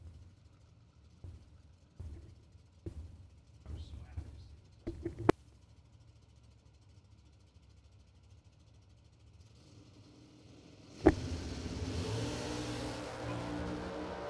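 A drag racing car launches hard at a bracket race, its engine roaring to a loud, broadband blast after a long stretch of quieter idle and track ambience with faint voices; the launch stays loud and sustained to the end.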